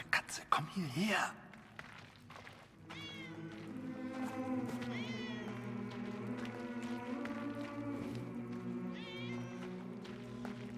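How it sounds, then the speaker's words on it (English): A cat meows repeatedly in the World War I adventure game 11-11: Memories Retold. The meows are close and clear at first, then continue over a steady, tonal in-game background. "I think that's the cat we've been seeing the whole time."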